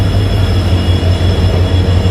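A passenger special train arrives at a station, its loud, close, low rumble and rhythmic wheel thumping rolling steadily through, with no voices.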